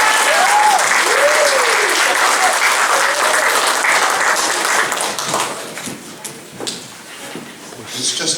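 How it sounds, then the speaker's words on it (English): An audience applauds at a choir showcase concert. The dense clapping is loud at first, then thins out and fades over the last few seconds, with a few scattered claps remaining. "another big round of applause"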